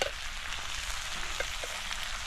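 Smoked meat and yam frying in a pan with king chillies, a steady close hiss and sizzle with faint pops throughout, no voices.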